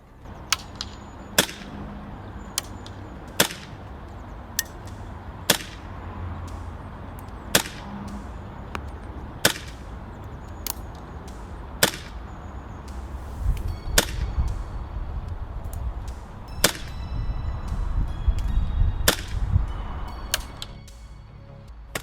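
Umarex/SFC HK MP7A1 gas blowback airsoft rifle firing BBs outdoors at long range, a slow string of about a dozen sharp, snappy single shots spaced a second or two apart over low ambient noise.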